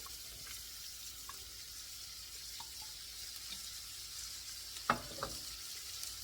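Chopped onions sizzle steadily in oil in a soup pot for a beef and barley soup, a faint, even hiss with a few quiet clinks and one louder knock of a utensil against the pot.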